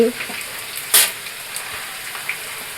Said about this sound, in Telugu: ఆయిల్ వేసిన తర్వాత ఆయిల్ హీట్ అయిన తర్వాత నేను ఆనియన్స్ అయితే వేస్తున్నానండి.